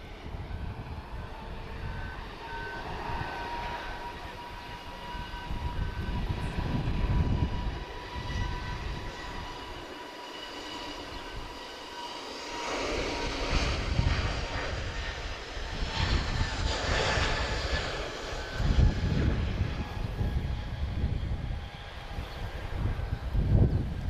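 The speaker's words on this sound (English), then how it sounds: "We have a third A330 pushing back." Airbus A330 being pushed back at Lisbon Airport, with a broad, steady engine roar and whine that swells and eases across the apron, heard from a distance with some jet noise rising in the background.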